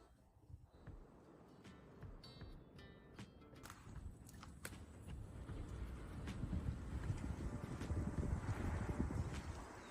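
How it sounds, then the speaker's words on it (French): Steady outdoor wind rumble on a fishing trip that builds gradually over the clip, with a few scattered clicks and knocks on top. "Le vent ne faiblit pas"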